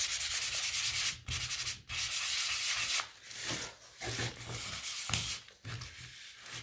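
Hand sanding of a wooden craft piece for a stacked egg trio with a bunny, a steady close scratchy rubbing in long strokes broken by brief pauses.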